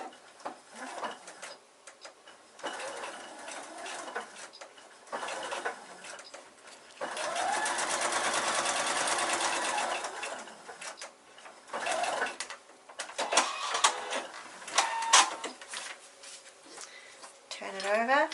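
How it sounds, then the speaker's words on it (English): A sewing machine runs in short bursts, backstitching both ends of a seam allowance during foundation paper piecing, with a steady longer run in the middle; a voice talks over parts of it. "I'm going to backstitch in both ends of the seam allowance."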